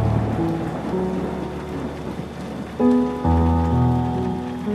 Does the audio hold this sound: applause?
no